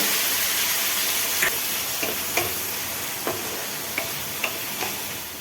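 Tomatoes and green chilies, added to onions browned with whole cumin and garam masala, fry in a pan with a steady close hiss and sizzle, broken by a few sharp stirring clicks and taps.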